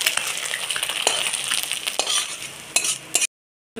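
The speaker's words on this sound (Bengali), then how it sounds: "ডিমটা আমি এরকমভাবে ভেজে নিয়েছি" An egg fries in an oiled pan, giving a steady crackling sizzle mixed with light clinks and scrapes of a utensil. It cuts off abruptly near the end.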